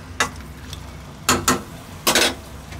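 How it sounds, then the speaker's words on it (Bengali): A spatula scrapes and clacks against a pan as chicken roast is stir-fried, giving three or four short, sharp strikes spaced irregularly over a soft background sizzle, close and clear with no talk. "কিছুক্ষণ কষিয়ে নেব।"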